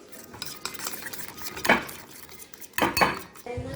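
Utensils scrape and clink against a bowl while ingredients for pan-fried soft shell crab are stirred together with butter, a steady close-up scraping broken by two louder clattering strokes.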